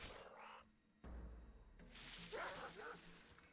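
World of Warcraft pet-battle Super Bark attack: a cartoonish dog bark and yip burst with whimpering tones after a sharp impact, game effects layered around it, with a voice talking at times.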